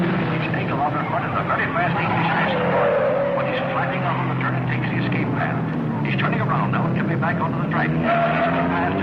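Race cars roar around a track behind a field after an inverted start, a continuous layered engine drone with shifting pitch. A commentator talks throughout over the noise.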